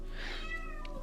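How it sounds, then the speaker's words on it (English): A domestic cat meows indoors, a short, fairly faint call rising and falling over about a second, with a second brief mew near the end and no talking. "That's my cat meowing."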